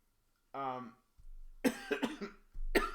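A person coughs a few times in quick bursts, close by, with a short vocal sound just before.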